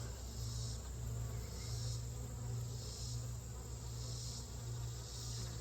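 Honeybees at a hive in August, a continuous close, soft buzzing hum with gently pulsing swells of louder drone every second or so.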